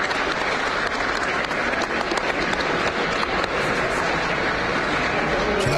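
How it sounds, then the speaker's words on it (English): A standing ovation for Steve Scalise in the House chamber, sustained loud dense applause from a large crowd filling the whole stretch, steady and unbroken with faint voices mixed in. "Let's listen to the applause."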